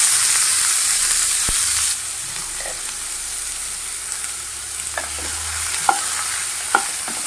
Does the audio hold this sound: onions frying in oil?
yes